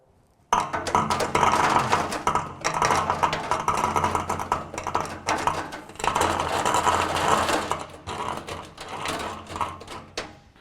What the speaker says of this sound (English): I'm going to leave the liquid in position, just add a whole load of screws